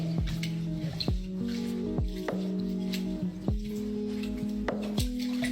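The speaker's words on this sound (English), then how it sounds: "And now we're gonna wash the rice. Warm water." Jasmine rice washed by hand in a big bowl of warm water: soft wet squishes and drips with sloshing grains, repeated in a loose rhythm, close and quiet, with no talking.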